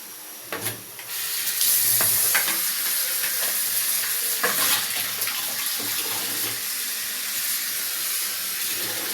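Steady rushing of water running from a tap, continuous broadband hiss with a few clinks and knocks, no talking.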